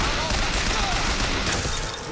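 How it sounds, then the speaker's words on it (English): Continuous dense machine gun fire in Bioshock Infinite, loud and unbroken for about two seconds, with no clear voice over it. "Does the machine gun overheat?"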